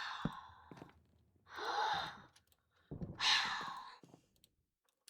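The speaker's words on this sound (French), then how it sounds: "j'ai pas envie de t'entendre respirer avec ta respiration de merde là" A creature in the video game From the Fog breathes heavily, with a few slow, close sighing breaths separated by short silences.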